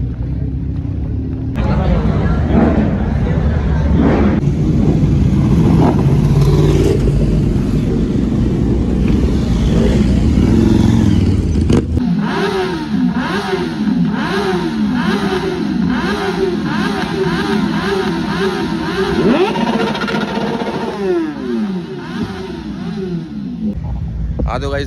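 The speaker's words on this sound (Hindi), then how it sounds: "और बाइक आ गई" Motorcycle engines rev repeatedly nearby at a bike show, rising and falling in loud bursts, with crowd noise and voices in the background.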